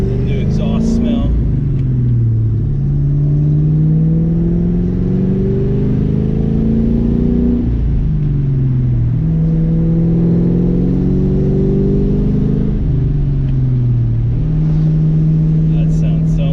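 A New Edge Ford Mustang with a DNA Motoring cat-back exhaust revs loudly and close, with repeated rising and falling engine sweeps and a deep rumble throughout, and a voice speaks briefly over it.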